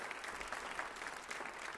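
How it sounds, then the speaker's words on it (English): Audience applause at a Martin Luther King Jr. celebration, a steady, fairly faint wash of clapping with no single claps standing out, heard throughout. "Let's just give her a round of applause as we sit here."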